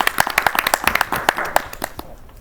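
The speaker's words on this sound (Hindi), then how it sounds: "तालियों से स्वागत कीजिए" An audience claps to welcome a Hindi ghazal poet onto the stage at an Independence Day poetry recital. The applause is dense and close, with many overlapping hand claps that thin out and fade toward the end.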